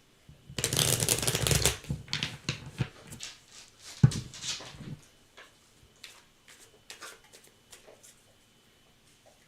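Tarot cards are shuffled and handled close up, starting with a dense riffling burst of about a second. It is followed by scattered softer flicks, taps and card slaps that thin out toward the end, with no talk.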